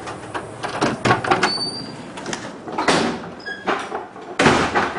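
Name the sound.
door opening and closing, going in the back door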